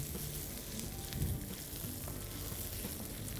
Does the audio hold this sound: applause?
no